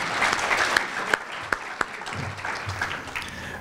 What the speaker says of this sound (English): we clap for her as well